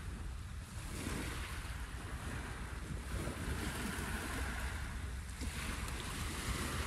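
Steady wind roaring across the microphone on the Thames riverbank on a warm night, a dense continuous rumble and hiss with no breaks, loud and close throughout.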